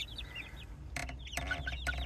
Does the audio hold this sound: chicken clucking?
yes